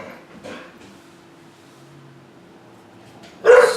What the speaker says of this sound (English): Sorry about my dogs in there.